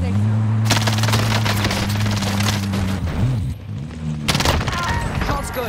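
Nearby gunfire in a Call of Duty match comes as rapid automatic bursts, one long string and then a second burst after a short pause, loud and close, with players talking over the shots.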